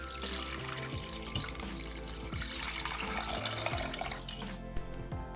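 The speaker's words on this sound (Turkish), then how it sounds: "Suyumuzu döküyoruz." Water runs steadily from a tap into a pot for kadayif syrup, a soft continuous splashing and trickling at moderate distance with faint kitchen clatter.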